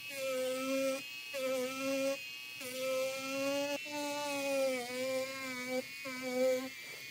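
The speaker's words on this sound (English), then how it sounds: "Now, the felt tip on the Dremel will do the rest." A Dremel rotary tool fitted with a felt tip buzzes in steady bursts while trimming the seam of a latex mask, a close whining hum with harmonics that pauses briefly between passes.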